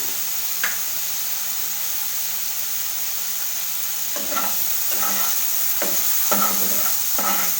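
Ground spices, including Kashmiri chilli powder, fry for an egg and papaya curry with a steady loud sizzling hiss. Partway through, repeated spatula scrapes join as the masala is stirred briskly in the pan.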